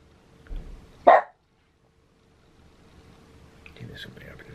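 A pet dog barks at something outside a home, a couple of loud sharp barks near the start, then quieter room noise and faint background sounds.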